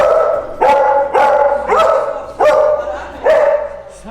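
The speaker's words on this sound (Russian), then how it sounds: "Такой красивый пес." A dog barks about six times in a steady run of loud, close, harmonic yaps, each spaced roughly half a second to a second apart, with no talk over it.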